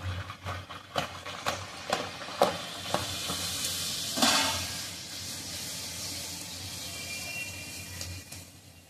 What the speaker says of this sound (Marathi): अशा प्रकारे बाकीच्या सुद्धा पुऱ्या मी तळून घेते